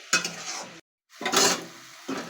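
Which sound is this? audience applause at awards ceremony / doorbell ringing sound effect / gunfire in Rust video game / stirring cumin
stirring cumin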